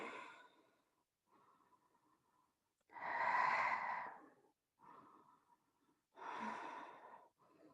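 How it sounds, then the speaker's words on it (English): Deep yoga breaths come close up during a stretching sequence: soft airy inhales alternate with louder, gusty sighing exhales, several in an unhurried rhythm with quiet gaps, and no talking. "Breathing."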